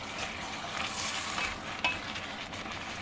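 Ingredients for an Italian cioppino seafood soup, including carrots, stirred in a pot, a quiet close sizzle with soft scraping and a small clink of the utensil partway through.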